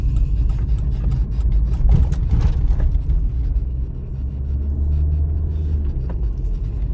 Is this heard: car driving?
yes